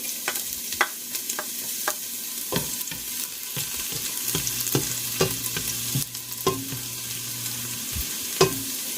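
Garlic sautés in rendered bacon fat, a steady sizzle with repeated sharp spatula scrapes and taps against the pan, close and fairly loud, with no talking.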